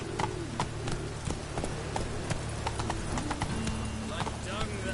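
Roach, a horse in the video game Witcher 3, trots with a regular clip-clop of hooves heard close, steady throughout, with talking in the background.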